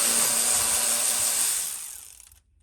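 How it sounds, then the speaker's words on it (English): A ratchet works loose the radiator hold-down bolts on a 6.0 Powerstroke diesel truck, giving a short burst of close, raspy mechanical clicking that stops abruptly after about two seconds. "8mm wrench, ratchet, whatever it may be, and we're going to start taking our hold downs loose."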